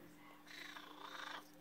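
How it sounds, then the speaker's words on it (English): A cat gives a short, soft rising trill close by, a single raspy, purring chirp lasting about a second against a quiet room. "she's doing like a little trill like Mocha does, huh?"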